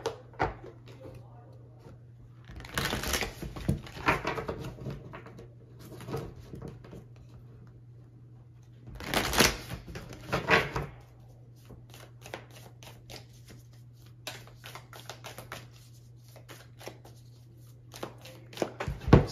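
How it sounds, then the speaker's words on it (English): A deck of cards being shuffled by hand in two loud bursts of riffling and patter, followed by softer, scattered card handling and taps. "So I'm just doing pre-shuffle."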